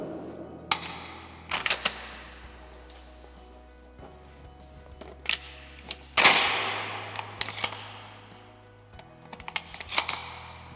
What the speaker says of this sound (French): En pratique maintenant dans notre tunnel, le chargement et le tir avec cette arme.